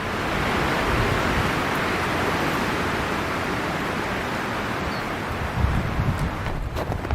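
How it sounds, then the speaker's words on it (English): Strong gusting wind roars steadily through a pine forest on a blustery sunny hike at Edgewood, a dense, continuous rush of moving trees and air that stays loud and close throughout. "That's a lot of wind."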